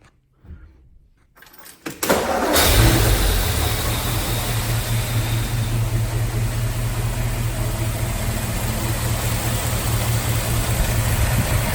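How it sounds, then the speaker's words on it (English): A 1955 Ford Thunderbird's 292 V8 cranks and catches after a short quiet stretch, then settles into a smooth, steady, even idle that runs loud and close for the rest of the clip. "You can see just how smoothly the engine runs. 292, and they're good engines."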